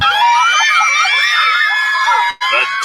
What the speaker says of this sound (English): The deafening scream can mean only one thing.